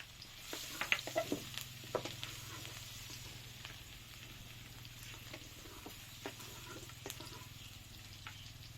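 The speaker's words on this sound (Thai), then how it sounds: "นี่ได้น้ำมันหมูแล้ว เราก็จะมาเจียวกระเทียมกันครับ" Garlic fries in pork lard in a quiet, even sizzle, broken by faint scattered clicks and pops.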